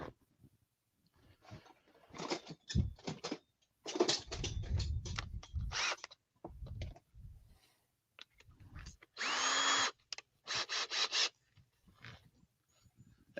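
A handheld power drill runs in several bursts of varying length, whirring up and stopping repeatedly, close and fairly loud, with short pauses and a few light rubbing and handling noises between runs.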